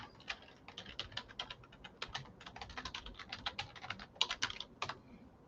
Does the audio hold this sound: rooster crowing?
no